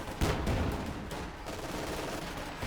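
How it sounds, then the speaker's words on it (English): Rifle grenade blast and gunfire in the real-time strategy game Company of Heroes 2, a dense run of sharp shots and a heavy burst over steady battle noise, loud and continuous with no talking. "Yeah, anti-tank grenade, rifle grenade goes off."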